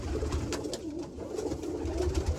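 Bullhead roller pigeons coo in low, throaty rolling phrases close by, repeating steadily over a constant background hum.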